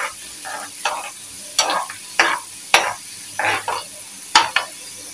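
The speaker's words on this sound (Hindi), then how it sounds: "प्याज को हल्के पिंक होने तक हम फ्राई करेंगे" Onions fry in oil with cumin for a tempering for moong and masoor dal, giving a close, bright sizzle that surges in bursts of about eight rhythmic stirs over a constant high hiss.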